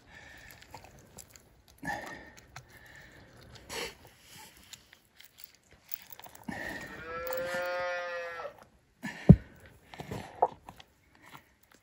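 A newborn calf on a Colorado ranch bawls in a loud, sustained moo lasting a couple of seconds, set among scattered handling noises, shuffling and short knocks, with a sharp thump near the end.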